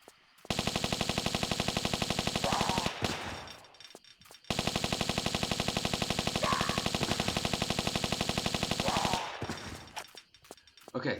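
Rapid automatic gunfire rings out against natives in a Tomb Raider 4 custom level set on the Midnight Shores. There are two long, loud, evenly rattling bursts separated by a short pause, with faint game sounds in the gaps.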